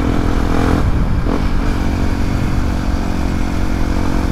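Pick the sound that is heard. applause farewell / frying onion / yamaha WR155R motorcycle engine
yamaha WR155R motorcycle engine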